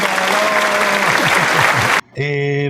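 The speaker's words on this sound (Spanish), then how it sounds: "Aplauso para Doña Blanca" Applause for Doña Blanca, a family matriarch, fills the room loudly and steadily for about two seconds alongside a voice, then cuts off abruptly into a brief sustained tone.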